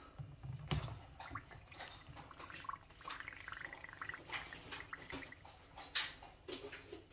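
A water filter soaks in a jug of water, with soft gurgles, drips and bubbling as it is moved around. Occasional small splashes and clunks are heard up close, and no one speaks.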